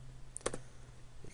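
A computer mouse gives a quick pair of faint, close clicks against a quiet room hum.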